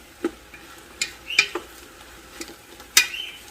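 Chopped garlic sizzles in a pot for goulash under a soft, low frying hiss. Several sharp clinks and scrapes come from a spoon stirring against the pot, spaced irregularly and close, with no talking.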